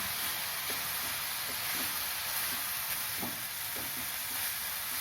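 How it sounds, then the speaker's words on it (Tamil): Sprouted green gram sundal, freshly topped with grated coconut, stirred gently in a pan, giving soft scattered scrapes and light taps over a steady faint hiss, close and quiet with no voices. "லேசாக ஒரு கிளறு கிளறி விட்டுக்கலாம்"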